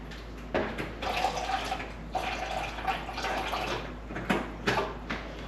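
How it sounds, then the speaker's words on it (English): Cold water is poured into a measuring cup up to the half-cup mark for a pizza recipe, a splashing, gurgling stream in uneven bursts lasting several seconds in a kitchen. "now we're going to use some cold water to fill up to our half a cup"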